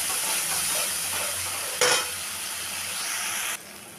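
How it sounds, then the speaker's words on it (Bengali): Soaked, dried rice fries with spice paste in hot oil for a fish-head muri ghonto, a continuous close hiss broken by one sharp sizzling flare partway through, then the sound drops suddenly near the end. "ভিজিয়ে শুকনো করে রেখেছি সেই চালটা এখন একটু মশলার সাথে ভেজে নেব।"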